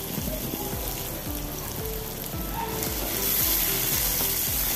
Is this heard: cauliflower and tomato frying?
yes